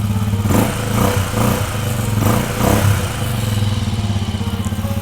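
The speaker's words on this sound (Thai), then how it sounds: "มาฟังเสียงท่อกันเลย สตาร์ติดทีเดียวรู้เรื่องฮะ" A 2017 Stallion CT400 classic motorcycle idling just after starting, its exhaust giving a loud, steady low thumping throb with a few slight blips in pace, close up and without talk.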